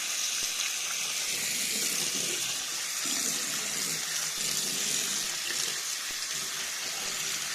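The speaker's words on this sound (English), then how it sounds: "First thing, wash them thoroughly." Running tap water pours steadily over raw prawns being washed in a kitchen sink, a constant close hiss and splatter without any talking.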